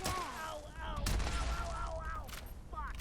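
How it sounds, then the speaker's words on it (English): Gunfire from the video game Fallout 76 rings out in a couple of sharp, loud bursts, with a voice talking in between the shots. "I shot him in the head"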